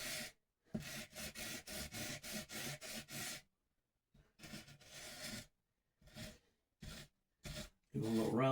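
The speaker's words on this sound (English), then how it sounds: "And we're buffing it off. We're getting the sheen off of it" Rasping, rubbing strokes of buffing a new guitar nut being fitted to a Les Paul Jr, in a quick run of about eight even strokes, then a pause and scattered shorter bursts, close and fairly loud.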